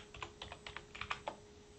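Fingers tap out a short run of quick, light keystrokes on a computer keyboard, about a dozen irregular clicks close by in a quiet room.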